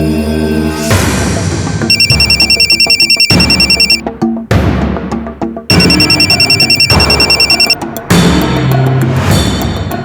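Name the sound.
phone ringing unanswered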